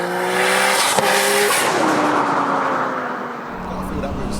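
An 800bhp Nissan R34 GT-R with a 2.8L stroker engine pulls hard in second gear, its loud engine note climbing steadily as boost builds, with a brief tire chirp early on and the pitch sweeping downward near the end.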